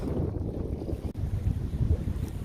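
Steady roaring wind gusting across a restored Catalina 25 sailboat under sail, a close, continuous rush of buffeting microphone noise with faint water beneath.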